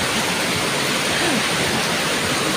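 Heavy rain pours down outdoors near Marquee Mall during the rainy season, a loud, dense, unbroken hiss of falling water that runs steadily throughout with no voices.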